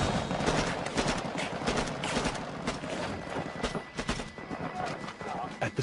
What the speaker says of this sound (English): At the sound of gunfire, the rest of the team scattered.